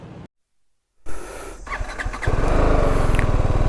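A motorcycle engine fires up after a moment of silence, settles into a steady idle, then builds into a loud, continuous throttle as the bike pulls away from a parking area, close to the listener.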